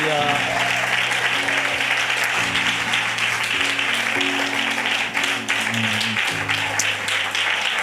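A congregation claps steadily during a Malayalam church Bible study, a dense continuous patter of many hands under sustained organ-like musical tones and voices.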